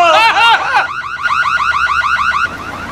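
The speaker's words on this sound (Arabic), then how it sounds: "جرس الانذار داره" A loud villa burglar alarm going off, a rapid repeating electronic warble cycling steadily without pause after a brief burst of other tones at the start.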